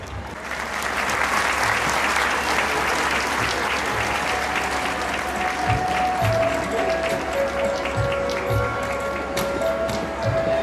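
Audience applause at a college stage performance event, a steady dense wash of clapping from a large crowd lasting the whole stretch, loud and close, with faint voices beneath.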